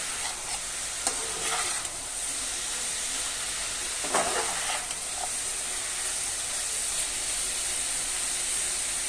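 Cabbage bhaji with chicken sizzles in a pan with a continuous frying hiss. A few louder scraping stirs sound close by, one stronger one about midway.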